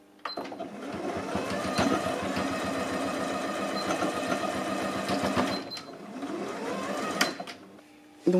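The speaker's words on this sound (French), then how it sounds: "Je vais coudre mon col." A sewing machine stitches a sweatshirt collar in a steady fast mechanical whir with rhythmic needle clatter, pausing briefly near the end before starting again; no talking over it.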